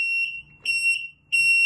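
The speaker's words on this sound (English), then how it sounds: "beeper start to sound" A GSM alarm box beeper sounds for a power failure: three loud, piercing electronic beeps, each about half a second, separated by short silent gaps.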